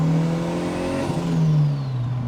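A Toyota MR2 Turbo pulls away, its engine note rising and then easing as it drives off, loud and close, alone without talk.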